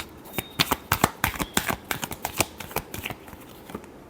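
Tarot cards are shuffled in a quick run of crisp, close riffling taps and flutters, each burst sharp and distinct with short pauses between, and no talk over it.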